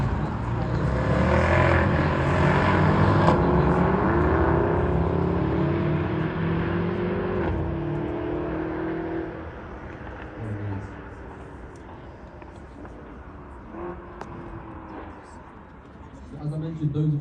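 Mercedes-AMG V8 cars running flying laps at Mercedes Benz World, a loud engine roar that rises and pitches across the first half, then fades to a distant drone before swelling again near the end.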